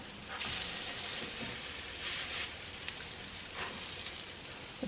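Salmon patties seasoned with onion powder fry over medium heat in a cast-iron pan, a loud steady sizzle rising in bursts as they are turned, with occasional scraping of the spatula.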